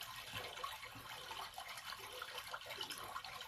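Water flowing from a temple fountain at Tirta Empul in Bali, a faint continuous splashing trickle with no voices.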